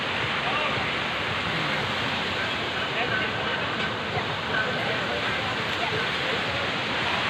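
A river at Campestohan highland resort rushes in a loud, continuous wash of flowing water that stays close and steady throughout.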